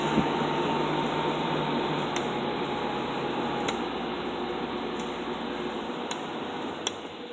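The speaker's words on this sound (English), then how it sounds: "There's spin down on the blower fan, if you can see that. Pretty quick spin down." A Nordyne Quiet Kool window air conditioner, a Fedders unit with worn bearings, has its blower fan winding down after switch-off, a steady broad whir fading gradually with faint ticks near the end.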